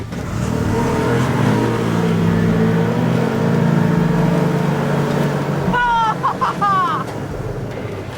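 Two 2024 UTVs, a Can-Am Defender Limited and a Polaris Ranger 1500, launch side by side in a drag race with loud, sustained engine roar that builds and holds, then shifts pitch near the end as voices call out.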